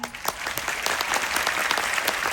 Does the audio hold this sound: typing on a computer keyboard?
no